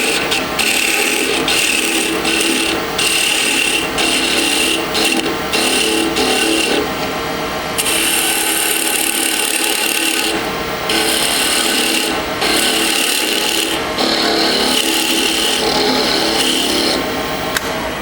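A bocote drop pendant spins at high speed on a wood lathe while light cuts thin it, making a loud, continuous scraping hiss that pulses in short repeated strokes.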